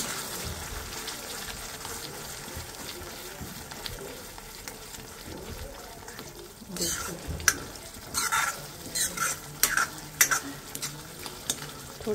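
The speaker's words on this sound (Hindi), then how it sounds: "क्रीम डालने के बाद अच्छे से थोड़ी देर हम मसालों को चलाएंगे क्रीम के साथ" Spices and cream being stirred with a spoon in a pan, a low simmering sizzle at first, then a run of scraping strokes and clinks against the pan in the second half, close and fairly quiet.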